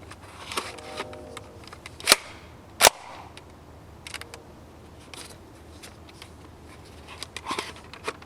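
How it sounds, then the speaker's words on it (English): A Nerf N-strike Thunderblast toy blaster fired outdoors: two sharp, loud pops about a second apart, with quieter mechanical clicks and open-air ambience around them. "it's time to do the Thunderblast firing outdoor test"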